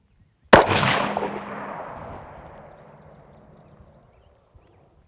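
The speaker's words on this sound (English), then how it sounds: "I'll take another shot here." A single rifle shot fires while testing an ATN X Sight 4K Pro scope, a sharp loud crack followed by a long rolling echo that fades out over several seconds outdoors.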